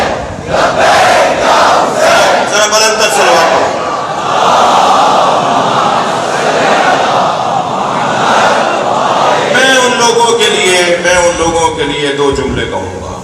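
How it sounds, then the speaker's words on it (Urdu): A large crowd at a Muharram gathering recites salawat together, loud and close. The voices surge in rhythmic unison chanting and swell again near the end. "ذرا بلند تر صلوات پڑھو۔"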